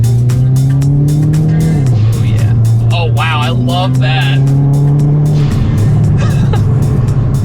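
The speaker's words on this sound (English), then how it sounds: "Got the exhaust, got the turbo noise" A loud Hyundai N car exhaust roars and drones, rising and falling with engine revs and turbo whooshes, while people react excitedly over it.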